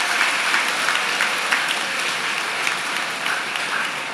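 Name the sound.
audience applause welcoming a guest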